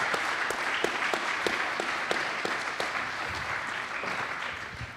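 Steady applause from an audience, dense clapping with some sharper individual claps standing out, continuing throughout.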